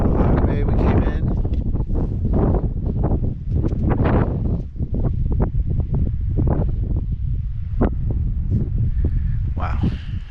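Strong wind buffeting the microphone on a mountain hike up Guadalupe Peak, a constant loud low rumble and gusting roar, with a person speaking over it.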